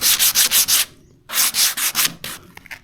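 Hand sanding a 1976 BMW 2002 body panel with sandpaper: five quick rhythmic back-and-forth rasps, a brief pause, then another burst of strokes tapering off, close and loud with no talking.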